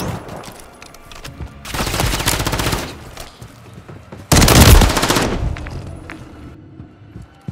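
Incoming automatic gunfire in Call of Duty: Modern Warfare III, heard as two loud sustained bursts of about a second each, close and harsh, separated by quieter game ambience.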